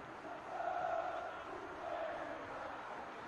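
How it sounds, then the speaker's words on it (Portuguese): Campinense football supporters celebrating and singing together in the stands during a Copa do Nordeste match against CRB, a steady distant crowd roar with swelling chants that rise and fall throughout. "olha a festa da torcida do Campinense. Festa bonita. Torcedor cantando, incentivando."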